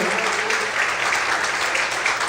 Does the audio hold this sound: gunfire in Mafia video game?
no